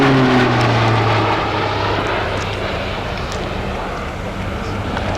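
A Pilatus PC-9M propeller aircraft of the Slovenian Air Force performs a display at RAF Fairford, its engine a loud, continuous drone that holds steady throughout, with a commentator speaking over it.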